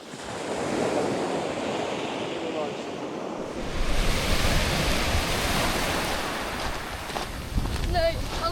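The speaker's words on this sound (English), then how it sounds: "I like how the waves come." Sea waves wash steadily onto a beach at England's most easterly point, a continuous roaring surf with gusts of wind buffeting the microphone, growing louder and fuller midway through.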